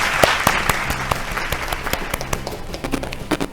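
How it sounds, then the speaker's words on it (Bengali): A studio audience at a Bengali family game show breaks into brisk, sustained applause, dense and close, with sharp individual claps standing out. "সবাই জোরে হাততালি প্লিজ"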